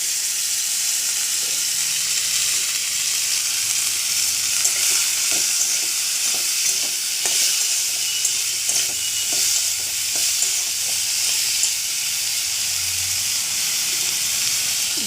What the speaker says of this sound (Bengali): টুকরো টুকরো করে কাটা রাঙা আলুগুলো দিয়ে দিলাম।